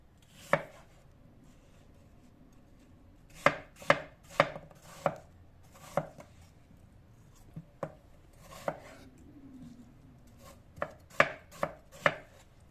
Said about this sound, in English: As I chop each apple